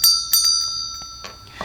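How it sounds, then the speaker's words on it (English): One small bell rings out clear and close, with a bright sustained tone that slowly decays, followed by a few light taps and a faint rustle. "We're going to ring the bell."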